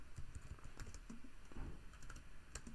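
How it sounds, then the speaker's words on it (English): Keys of a computer keyboard being typed on in a quiet room, a steady run of light, close clicks over nearly three seconds with no voices. "let me just try and type it"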